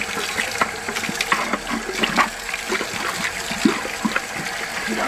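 Running water from a sink tap rinsing paint out of a brush while exterior wall painting, a steady close splashing trickle with small spatters throughout.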